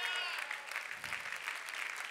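Church congregation clapping during a worship service, a steady dense wash of applause from many hands, moderately loud and continuous throughout with no clear voices above it.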